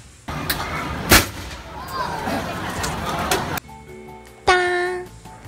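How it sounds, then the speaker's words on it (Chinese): A rice-puffing pressure cooker releases with one loud, sharp bang as puffed rice blasts into a net. Crowd chatter carries on around it, and a tonal ring follows near the end. "当米香因为压力释放，砰的都掉进网桶中了哟。"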